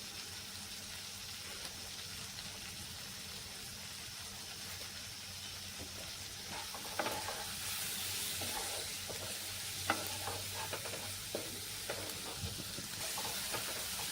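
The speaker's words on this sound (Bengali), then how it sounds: "দেখো টমেটো পেঁয়াজ ক্যাপসিকাম খুব ভালো করে কষানো হয়ে গেছে" Tomato, onion and capsicum sizzle steadily as they are sautéed in a pan. A constant frying hiss runs throughout, and from about the middle it grows louder with scattered clicks of stirring.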